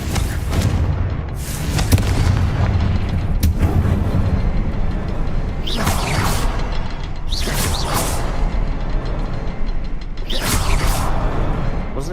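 Confringo fire spell in Hogwarts Legacy, giving a series of whooshing, booming bursts, about five sharp swells spaced a second or two apart over a rumbling, mechanical game backdrop.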